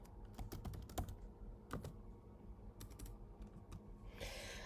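Keystrokes on a computer keyboard typing a short word, a quick irregular burst of sharp clicks up close over a low background hum, followed by a brief hiss at the end.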